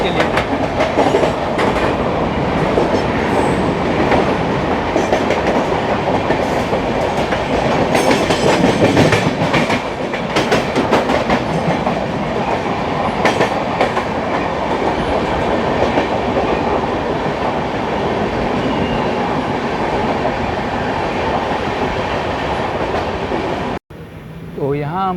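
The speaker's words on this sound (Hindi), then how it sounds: "और यहाँ पे हावड़ा मुंबई मेल का रेक शंट किया जा रहा है पिट लाइंस में" Howrah Mumbai Mail rake being shunted into pit lines on Indian railway, loud continuous rumble of coaches with rhythmic clickety-clack of wheels over joints, heard close from a moving train, ending in an abrupt cut.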